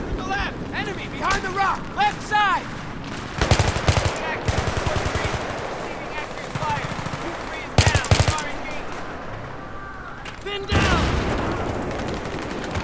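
Bursts of automatic gunfire and heavy shots come from the video game Battlefield 3, with rapid rattling volleys and a few loud booms, while players shout and talk excitedly over the combat.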